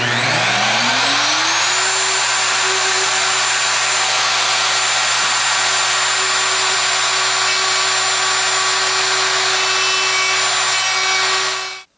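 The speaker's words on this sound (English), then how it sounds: "now we're going to go ahead and route the pins" A router fitted with a straight bit cuts dovetail pins on a Leigh jig, spinning up to a loud, steady high-pitched whine over a constant motor hum, running close for about ten seconds before cutting off abruptly.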